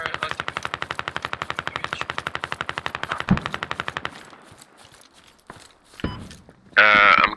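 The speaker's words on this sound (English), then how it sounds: "I hear shots really close to me" Rapid automatic gunfire rattles loudly at close range for several seconds in the military shooter Squad, followed by a heavy thump, scattered quieter shots and a sharp burst near the end.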